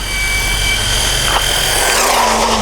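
An LRP S10 Blast 2 4x4 electric race buggy at full throttle, a loud continuous high-pitched motor whine that rises and shifts in pitch as it speeds past, steady and close.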